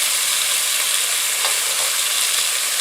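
Meat for Wisconsin tavern-style hot beef sears in a pan with a steady, dense sizzle, loud and close, running unbroken throughout with faint scraping stirs.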